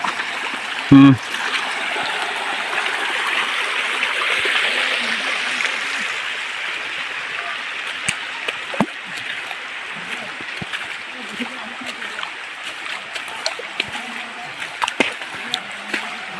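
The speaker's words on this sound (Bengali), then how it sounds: "একটা ঝর্ণা দেখা পাইলাম" Steady broadband rush of a waterfall at Boroitoli, a forest falls near Cox's Bazar, flowing continuously and fairly loud, with a brief thump near the start and faint voices under the water noise.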